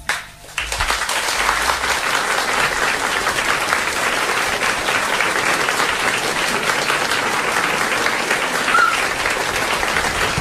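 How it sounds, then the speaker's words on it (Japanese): A live audience applauds loudly to welcome ghost storyteller Junji Inagawa, a sustained, dense roar of clapping that starts after a brief lull and holds steady for about ten seconds. "どうぞ拍手でお迎えください。"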